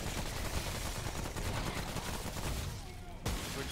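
Rapid SMG gunfire in the video game Remnant From the Ashes comes as dense bursts of shots over about three seconds, fairly faint beneath game noise and ending in one sharp final report.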